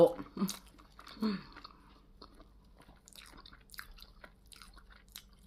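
Sticky rice with fried pork is chewed close up, with a few soft bites and moist chewing sounds that are loudest at the start, then fade to faint, sporadic mouth noises.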